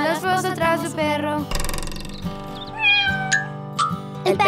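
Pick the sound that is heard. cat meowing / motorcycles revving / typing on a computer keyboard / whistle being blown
cat meowing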